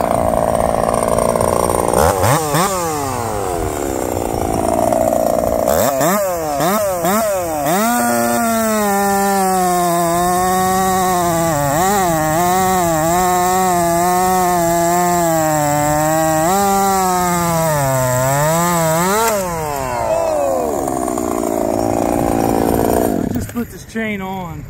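At an outdoor lumberjack show, a chainsaw revs up, bogs and climbs in pitch as it bites through wood in long sustained cuts, loud and close, with brief revs between passes.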